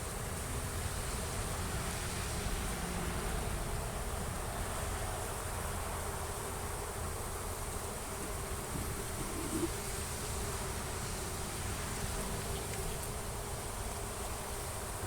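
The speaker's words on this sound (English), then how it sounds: "taking the frames of bees over to the entrance of the hive and just shaking them off" A dense, steady buzz of many honeybees fills the air around a hive during honey harvesting as frames are shaken onto the landing board, constant and close, with no voices.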